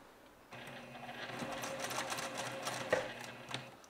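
A sewing machine stitches fabric along an appliqué piece, starting abruptly and running in a steady, close mechanical whir with a couple of sharper clicks, with no talk over it.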